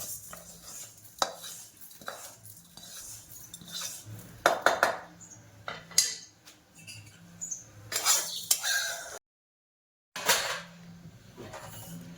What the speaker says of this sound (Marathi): मेथीला जास्त अजिबात भाजायचं नाही. हे बघा, रंग चेंज झाला का लगेच काढून घ्यायचं.